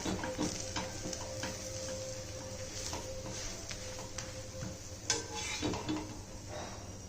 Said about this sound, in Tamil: நான் எண்ணெய் ஊற்றிருக்கேன் நல்லா அந்த மாதிரி ப்ரெஸ் பண்ணி விட்டுக்கோங்க